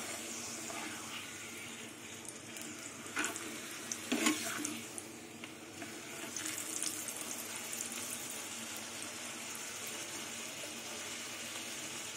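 Carrot luchi frying in oil, a continuous hissing sizzle with watery bubbling that swells briefly midway, close and steady throughout with no voices.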